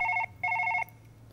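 A telephone rings in the Surgeon Simulator VR video game: two bursts of a bright electronic trill, close and clear, with a short gap between them and no talk.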